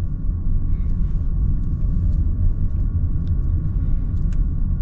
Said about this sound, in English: I love how the Prius drives, the new one.